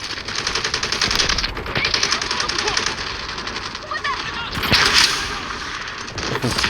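Rapid bursts of gunfire in the video game Delta Force: Hawk Ops crackle in quick volleys, with a louder burst midway, under ongoing Thai speech.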